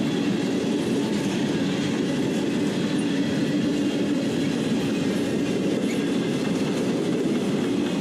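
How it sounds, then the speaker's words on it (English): A Norfolk Southern train rolls past on the tracks, a steady loud rumble of rail cars with rhythmic clickety-clack from the wheels, continuous and close with no talk. "And there's NS Train Model 22 on the other side."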